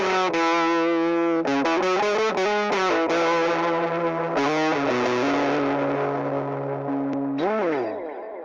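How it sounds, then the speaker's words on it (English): Electric guitar solo played through a Universal Audio Woodrow 55 amp plugin with the delay echo switched off, a loud, continuous distorted lead with sustained bending notes and quick melodic runs, dry and upfront. "And without the echo, we get this."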